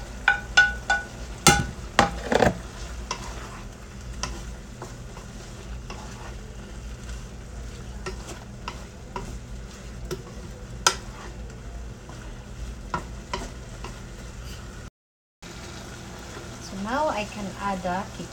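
Pepper and onion fry in a pan for chicken pretada, giving a steady sizzle dotted with sharp clinks and scrapes, louder early on, with a brief silent gap near the end.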